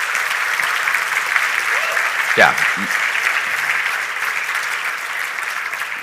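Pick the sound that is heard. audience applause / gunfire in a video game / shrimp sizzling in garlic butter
audience applause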